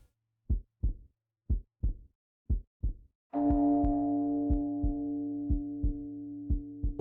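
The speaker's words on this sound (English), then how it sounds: "It sounds like I hear my heartbeat." A video game heartbeat pulses in steady paired thumps, first alone and then beneath a sustained droning tone that enters partway through.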